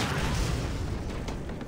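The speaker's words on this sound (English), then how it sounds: "More explosions." Explosions in the pinball-style video game Rollers of the Realm, a dense, loud booming burst that fills the moment and fades slightly at the end.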